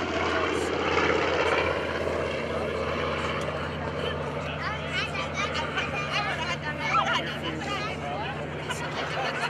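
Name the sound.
TBM Avenger propeller aircraft flying at airshow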